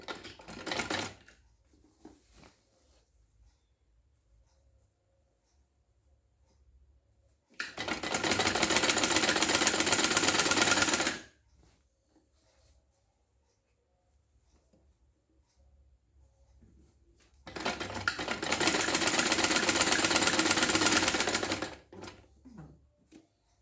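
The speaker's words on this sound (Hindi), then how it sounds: "फिर से ये फोल्ड कीजिए और सेम जगह पे रख कर सिलाई कर लीजिए।" A sewing machine stitches a folded sleeve: two loud, steady bursts of rapid mechanical whirring, each lasting a few seconds, separated by long quiet stretches.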